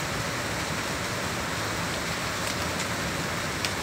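Steady rain pours down in a continuous broadband hiss, close and fairly loud, with no voices over it.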